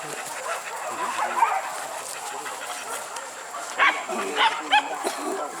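A dog barks several times in a field of banana plants near Nagari Sibarambang, a short cluster of sharp yelps toward the end, mixed with people talking nearby.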